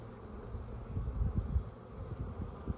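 Soft, steady buzzing of honeybees at the hive entrance as they fly in carrying pollen, a faint low hum with small fluctuations and no talking.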